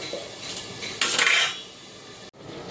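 A metal lid clanks onto a pan of green tomato chutney with a short bright clatter of cookware, then a faint simmer and a final soft knock.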